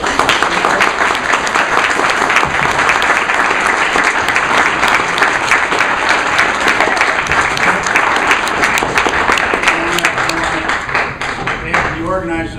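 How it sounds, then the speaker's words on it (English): Audience applause after the closing of a debate: a sustained, dense round of clapping from a crowd, loud and steady throughout, tapering slightly near the end as a voice begins speaking. "Let's have a round of applause."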